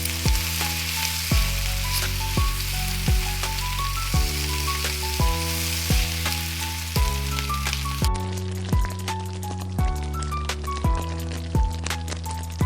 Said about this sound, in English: Now I am going to add spinach puree into it. And I am going to stir it well